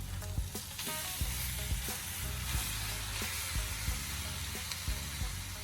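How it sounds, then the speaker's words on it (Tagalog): Chicken legs sizzling in a pan with soy sauce for spicy adobo, a steady loud frying hiss with occasional crackles and pops, close up and alone. "At sa puntong ito, pwede na nating ilagay ang ating chicken legs."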